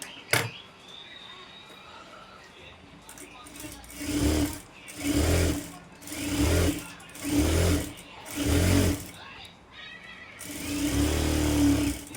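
A sewing machine stitches a folded 1.5-inch strip onto a blouse neckline in five or six distinct bursts, then one longer run at the end. Close and moderately loud, with a few faint handling noises between runs.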